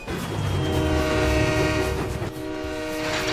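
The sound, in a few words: Diesel engine horn from Thomas & Friends, American Nathan K3L type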